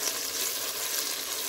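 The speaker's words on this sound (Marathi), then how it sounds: "खडा मसाला बिया चांगला भाजून घ्यायचा." Whole spices and seeds frying in hot oil with onion and tomato for a chicken rice dish, giving a steady, close, even sizzle that holds through the short stretch with no talking.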